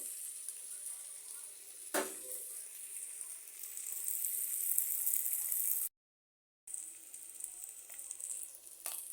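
Eggs frying in a pan for an egg curry, giving a steady, soft, hissing sizzle that runs evenly throughout, broken only by one brief silent gap partway through.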